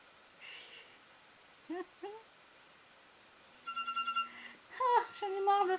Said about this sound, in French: j'en ai marre de cette sonnerie. Mon téléphone portable, il me saoule.